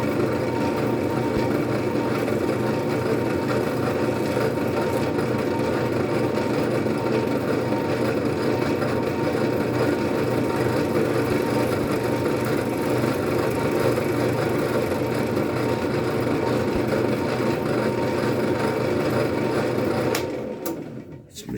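A machine tool cuts a Boyd's Custom rifle stock for a Generation 1 Savage, a loud, steady mechanical drone with fine rapid vibration that continues evenly for about twenty seconds before winding down abruptly.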